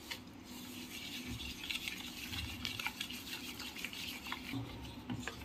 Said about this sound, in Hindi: पानी ऐड करके हमें इसका एक घोल बना लेना है बिना लम्स के